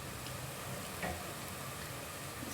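Onions browning in oil in a pot for chicken biryani, a steady soft sizzle and crackle with no talking.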